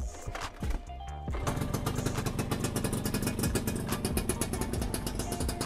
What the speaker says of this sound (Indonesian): Kita langsung engkol aja.